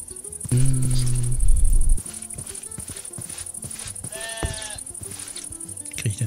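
A sheep in the video game Minecraft bleats a few times amid game sounds, including a clear wavering bleat near the middle, with a player talking over parts of it.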